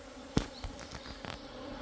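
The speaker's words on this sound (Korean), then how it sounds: "여기는 흑말벌 한두 마리하고 장수말벌 한 네다섯 마리 정도 되고 나머지는 전부 다 토종벌입니다" Native honeybees mixed with a few black hornets and several giant hornets swarm together around a trap, giving a close, continuous insect buzz with one sharp louder burst near the start.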